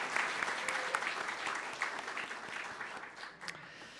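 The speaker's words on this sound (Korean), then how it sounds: "자랑스러운 아이들에게 큰 박수로 한번 격려합시다" Applause from a church congregation at a year-end Sunday afternoon graduation service, clapping for children finishing their program; dense, steady clapping from a moderate-sized room, fairly soft and sustained throughout with no talk over it.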